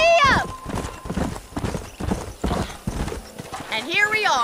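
Hooves clip-clop in a steady rapid gallop across Red Dead Redemption terrain, with a horse neighing and whinnying near the end while a voice talks over the ride.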